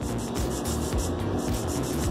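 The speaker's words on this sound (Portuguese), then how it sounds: "Eu vou fazer a utilização da lixa. Frente da unha," A nail file rasps across the front of a gel-coated fingernail during a manicure maintenance session, a steady, close, continuous scratchy rubbing with a faint repeating stroke rhythm and no talking.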